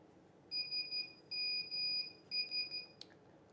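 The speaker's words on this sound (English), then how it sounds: "It sounds like Morse code anyway." Three short bursts of rapid, evenly pulsed electronic beeps, clear and fairly close, with brief pauses between groups like a Morse-code tone, ending in a sharp click.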